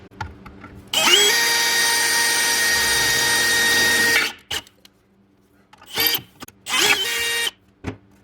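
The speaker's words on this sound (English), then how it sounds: "it is a 5/16 drill bit, and we just need to drill that hole out" A power drill runs with a 5/16 bit, boring a hole in a suspension shock mount on a Chevelle during a coilover upgrade: one long, steady whine of about three seconds, then several short bursts with pauses between them.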